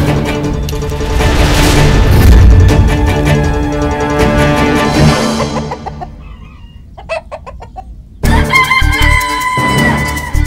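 A chicken clucks loudly and crows up close, its calls layered over a dense, full backdrop of sound that briefly thins out before the clucking returns strongly.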